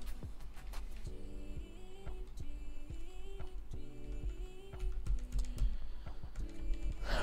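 Typing test on a custom-built MiniVan mechanical keyboard: a steady run of close, crisp keystroke clicks and clacks with irregular rhythm over a low background hum, no talking.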